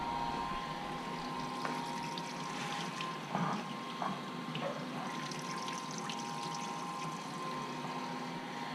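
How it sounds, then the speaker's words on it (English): Steady water flowing through an indoor brewing setup, a continuous rushing hiss with a faint pump-like hum and occasional small trickles and splashes, moderately close and uninterrupted, with no voices. "I think I'll turn up the water flow a little bit more."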